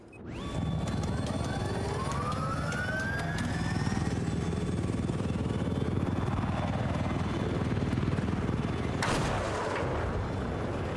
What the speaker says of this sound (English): You had to tilt your helicopter like directly at it.